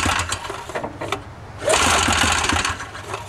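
A 377cc Rotax Ski-Doo snowmobile engine in a custom Twister Hammerhead buggy cranks with uneven pulls, then catches and runs with a loud, rapid buzzing clatter up close.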